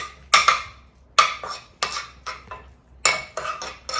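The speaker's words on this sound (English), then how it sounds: "We're just gonna mix that around, get that good and savory." A utensil stirs plant-based ground filling in a pan for sweet potato tacos, making rhythmic scraping and clinking strokes against the metal at close range, with no voices.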